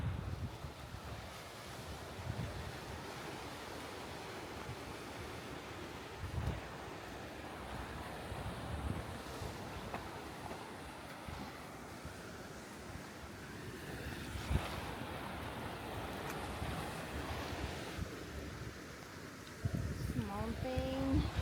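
Surf breaking on a rocky beach at Pagudpud, a steady wash of waves and wind noise throughout, with a louder surge near the end and someone speaking briefly over it.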